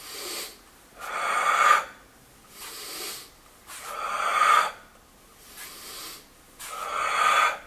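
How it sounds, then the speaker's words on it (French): Slow, deliberate breaths during a yoga session for the back and hips, four or five long airy inhale and exhale cycles close to the microphone, each rising and fading in an even rhythm with brief pauses between, no talking. "Inspire et expire"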